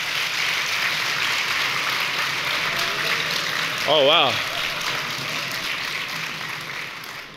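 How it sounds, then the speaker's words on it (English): An audience at a brain-education symposium claps in a steady wash of applause. A voice briefly exclaims partway through, and the clapping tapers toward the end. "let's applaud that one."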